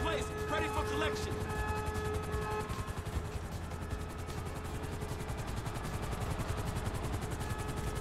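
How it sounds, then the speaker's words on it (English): A helicopter arrives in the video game Grand Theft Auto 5, its rotor chopping in a fast, steady rhythm that stays loud and close throughout, with a few brief tones early on. "Helicopter inbound."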